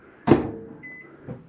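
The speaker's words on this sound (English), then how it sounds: "Self-explanatory microwave." Microwave oven in a 2014 Jayco Eagle HT camper: a sharp thump, then a short high electronic beep, followed by a softer second knock, all close and brief with no speech.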